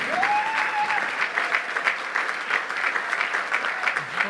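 An audience at a political event about labor unions bursts into sustained applause, dense steady clapping filling the room for several seconds with a brief whistle near the start.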